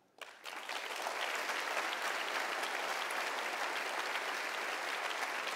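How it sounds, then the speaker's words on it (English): Sustained audience applause fills a party conference hall during the Liberal Democrat leader's autumn keynote speech, starting abruptly and holding steady and loud throughout. "Applause."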